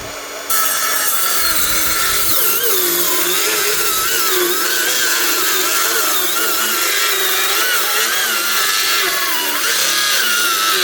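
A new Makita cordless saw cuts into hornbeam wood, running loud and continuous with a rough grinding whine that wavers as it bogs down, close up, with no talk.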